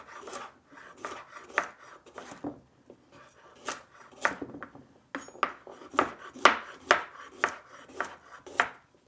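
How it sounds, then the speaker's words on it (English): A knife chops celery and carrots on a board in quick irregular strokes, crisp taps clustering into faster bursts toward the end, close and fairly quiet with no talk. "For some reason, I find it's easier to cut on an angle than straight."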